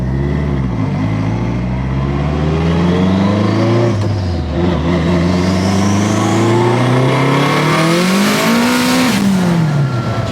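A fully built Honda Element with a sequential gearbox and its exhaust valves open accelerates hard and loud, its engine climbing through several rapid upshifts, then revving high and dropping back near the end.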